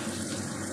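Water pours steadily into a pan of sautéed onions, a brief continuous splashing rush at moderate loudness, close by, with no talking.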